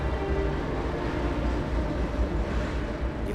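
A train rumbles along an active railroad track about 200 feet below a highway cliff edge, a steady low heavy roll with faint rhythmic rail clatter, distant but continuous.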